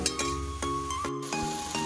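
Soybean chunks sauté with chili in a pan, a steady sizzle broken by rhythmic scrapes and clinks of a spoon against the pan, close and clear with no talk.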